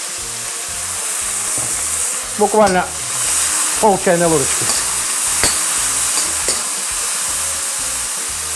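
Beef fries with soy sauce in a hot pan for a Korean-style dish, giving a loud, continuous sizzle with scraping stirs, while someone talks briefly in the middle.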